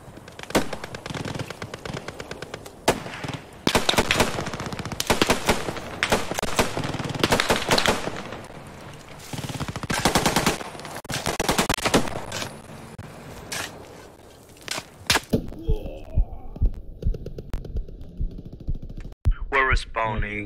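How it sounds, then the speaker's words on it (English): Machine gun fire in the video game Post Scriptum, loud rapid bursts repeating over about fifteen seconds, then scattered single shots and a few sharper cracks after a brief lull, with players talking over the gunfire. "Let's get that MG going."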